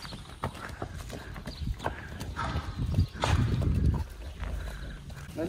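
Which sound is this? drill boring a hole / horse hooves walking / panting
horse hooves walking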